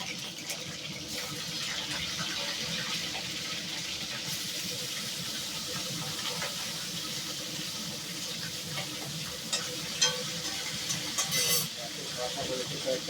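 Chara pona fish frying in hot oil gives a continuous loud hiss and sizzle, mixed with the steady rush of a running kitchen chimney, with a few sharper spatters near the end.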